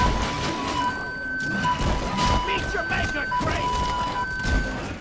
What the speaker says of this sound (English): Whenever it's damaged, it'll now play that classic car siren sound.